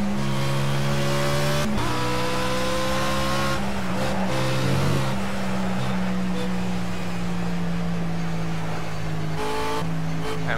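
A race car in the Project CARS video game lapping the Nürburgring Nordschleife, its engine a loud, steady, buzzing drone that climbs in pitch through the gears, with sudden drops at upshifts and no talking.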